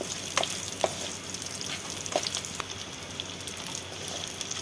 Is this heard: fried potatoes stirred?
yes